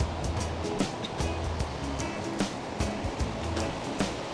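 Aerated grit tanks at a wastewater treatment plant bubble and churn continuously, a dense, loud rushing of water with frequent splashy bursts and no speech over it.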